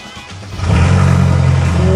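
A modified Mercedes-Benz E300 AMG Coupe fitted with a race chip fires up nearby, a brief starter whirr swelling into a loud, steady engine rumble that holds for the rest of the moment.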